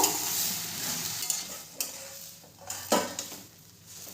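Turmeric and salt being stirred into cooking tomato chutney: a close, steady frying hiss with a few soft scraping strokes and light clinks of a spoon against the pan, no voices.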